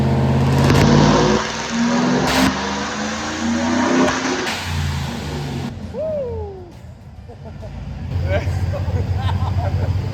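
A supercharged truck engine revs hard while strapped to a dyno, its steady loud drone climbing and bouncing against the rev limiter, with voices speaking over it.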